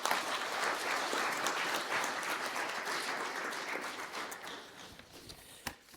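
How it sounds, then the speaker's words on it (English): Crowd applause for a Governor's remarks at a boy child engagement event, dense steady clapping throughout that thins slightly toward the end, with no voices over it. "Let's again give the Honorable Governor a deserving round of applause for the wonderful remarks"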